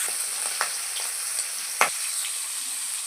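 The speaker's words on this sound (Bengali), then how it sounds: "মাছটা কিন্তু হালকা করে ভাজা করে নেব।" Fish frying in hot oil for a Bengali fish curry gives a steady, close hiss of sizzling with a few sharp pops and crackles, and no talking.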